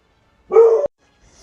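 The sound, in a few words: dog barking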